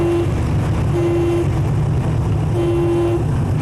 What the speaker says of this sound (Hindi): रक्शे वाला हॉर्न पे हॉर्न दिए जा रहा था